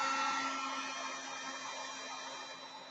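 A heat gun used for embossing blows with a steady, close airy whir and a constant motor hum, fading slightly over three seconds with no talk.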